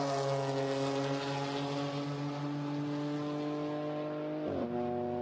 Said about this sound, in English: Now, BMW on track.